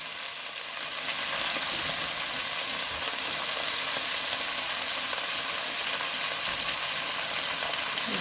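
Oxtail sears in a pot over high heat, giving a steady, loud, dense sizzle that lasts throughout with no talking.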